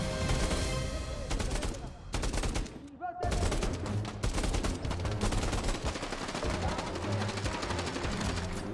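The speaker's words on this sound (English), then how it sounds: "A lot of shooting, but they ain't hitting nothing." Dense video game gunfire in a plaza firefight, rapid overlapping automatic bursts and shots rattling almost continuously and loud, with a brief lull partway through.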